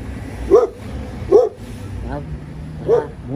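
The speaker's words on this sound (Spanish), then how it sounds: "Qué raro. Perrito." A small dog gives three short, sharp yipping barks spaced about a second apart. It is close by, and a low street-like background murmur runs beneath.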